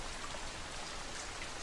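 Soft, steady rain falls with a continuous hiss of raindrops, quiet and even, with no voices.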